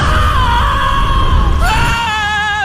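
A loud, sustained shout rousing a sleeper, a strained high voice held for about two seconds before the pitch jumps and the yell carries on.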